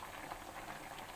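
Seafood ginataan with sweet corn boiling in a pot, a steady, close bubbling simmer of coconut-milk broth that runs continuously without voices.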